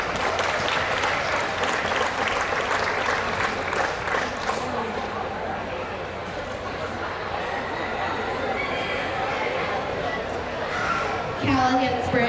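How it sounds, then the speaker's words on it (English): Crowd at a county fair livestock show applauds steadily, with dogs barking and voices talking in the background as the clapping thins near the end. "Give those kids a big round of applause with their excuse."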